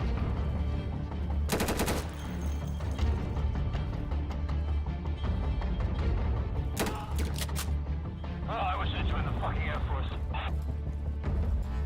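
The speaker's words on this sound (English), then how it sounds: "I missed the insurgent with 2 bursts of my rifle" Rifle bursts and rapid gunfire from the video game Insurgency, loud, dense volleys over a constant low rumble of game sound, with a sharp crack early and another cluster of shots midway.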